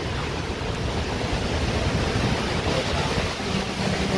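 Strong typhoon wind roars around a house roof, a loud, unbroken rushing gust with no pauses, close and overwhelming.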